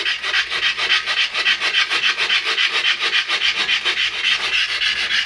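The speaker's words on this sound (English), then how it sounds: "then you just start scrubbing" Brush scrubbing hard water stains inside a porcelain toilet bowl, a steady rapid back-and-forth rasping that continues without pause, close and fairly loud, with no voices.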